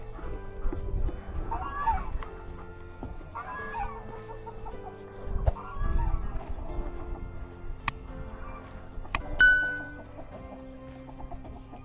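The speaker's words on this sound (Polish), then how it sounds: "Ale mają kurki radochę," Hens, including Marans and Swedish Flower chickens, cluck in bursts while feeding. The soft, close clucking repeats irregularly, with a few sharp clicks and knocks in between.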